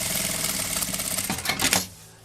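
A sewing machine runs a quick burst of stitching along a seam on a small fabric bag. The rapid mechanical whir speeds up briefly, then stops abruptly, close and fairly loud.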